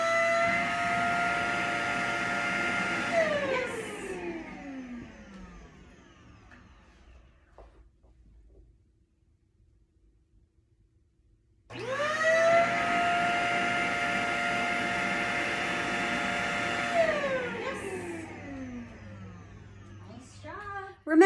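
A vacuum cleaner runs steadily for a few seconds, whines down to quiet, then starts up again with a strong motor hum, all during fear-conditioning practice for a dog.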